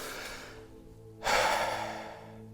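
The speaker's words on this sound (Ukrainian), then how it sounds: "зараз я концентруюся на диханні" Breathing during a breath-focused concentration exercise: quiet air at first, then one clear, close exhale that swells suddenly and fades slowly.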